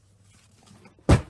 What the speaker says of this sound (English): That was the cat knocking things off.